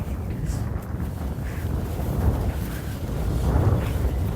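Steady wind blows across open ground at the YG reservoir near Bengaluru, a continuous low rushing roar buffeting the microphone, slightly stronger toward the end, with no voices.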